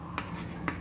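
Marker or chalk writing on a board during a Maharashtra board 11th-grade physics lecture on units and measurement, heard as two short scratchy strokes about half a second apart over a low steady room hum.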